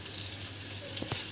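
Poha thalipeeth sizzles steadily on a hot tawa as a little oil is added, a constant close hiss with a couple of soft taps near the end.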